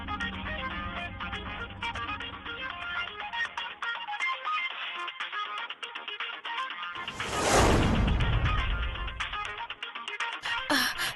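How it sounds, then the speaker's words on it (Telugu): A mobile phone ringtone plays a repeating melodic pattern in a Telugu TV serial scene, joined midway by a brief rushing swell of noise before the tune carries on. "మనం గొంతుతో మాట్లాడలేకపోయినా మొబైల్ సౌండ్ వినిపిస్తుంది"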